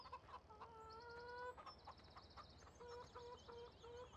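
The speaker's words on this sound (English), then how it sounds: "here is our chickens." Chickens cluck repeatedly in the Farming Simulator 17 video game, a series of short, rhythmic clucks at a faint, even level with no talking.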